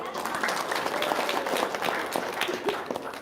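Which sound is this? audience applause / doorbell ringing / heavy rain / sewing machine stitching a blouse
audience applause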